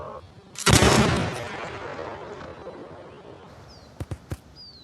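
A single loud revolver shot of a .38 Special round booms in the game VEIN and decays into a long reverberant tail, followed by three quick fainter clicks or thuds.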